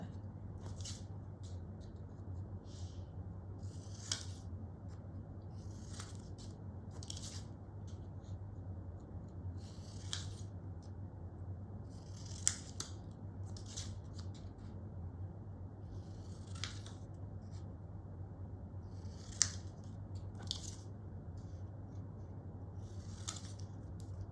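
Scissors snip paper for a homemade classroom game in a quiet room, with short crisp cuts repeating every second or two over a low steady hum, and no talk.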